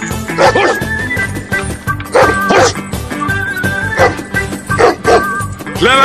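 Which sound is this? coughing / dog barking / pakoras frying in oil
dog barking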